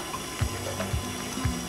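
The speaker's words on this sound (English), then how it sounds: "I'm gonna gradually add my water." Water running from a tap, poured gradually into dhal puri dough in a KitchenAid mixer: a steady trickle and splash with a low repeating mechanical thump about every half second, no talking.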